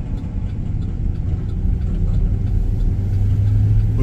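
A 2019 Chevy Express van's V8 engine with coil packs and no distributor idles with a steady low rumble, close and loud, and its pitch wavers slightly as the engine hesitates.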